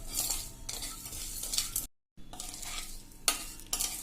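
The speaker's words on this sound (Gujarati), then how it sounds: "એને આપણે આ રીતે હલાવતા રહેશું, ખાંડ ઓગળી જાય ત્યાં સુધી" Sugar being stirred in a pan over a slow-to-medium gas flame to melt it into one-string syrup for Kutchi adadiya, with steady scraping strokes and a soft sizzle, close and alone, broken by a brief pause partway through.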